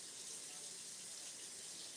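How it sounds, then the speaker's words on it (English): Tap water runs steadily from a faucet as hands are washed at a kitchen sink, a continuous soft hiss and splash with no breaks. "I'm gonna wash my hands."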